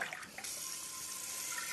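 A tap runs steadily into a cooking pot being filled with water for boiling, a close, even hiss and splash with no voices.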